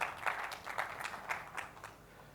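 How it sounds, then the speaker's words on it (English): A conference audience claps for a guest speaker, a quiet, distant patter of hands that peaks in a few soft bursts and then thins out over a couple of seconds. "I think she needs a round of claps"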